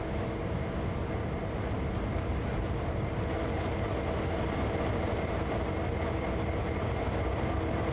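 A freight train rolls slowly at about 13 miles per hour on the Sand Patch Grade in Train Sim World 2, with a constant low rumble and faint clicking from the wheels. No voices are heard.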